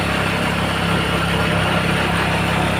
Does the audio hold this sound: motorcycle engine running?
yes